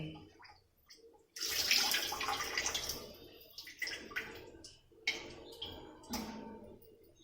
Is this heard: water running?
yes